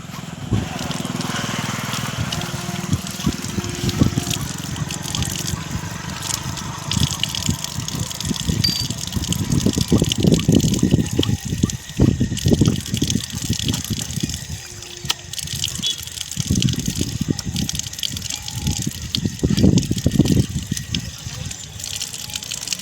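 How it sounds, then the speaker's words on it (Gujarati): Water gushes and splashes in uneven bursts as someone washes hands and feet, a few loud surges separated by quieter trickling, close by with faint background noise. "પાણી પીધું હાથ પગ ધોયા"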